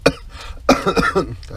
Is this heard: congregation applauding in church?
no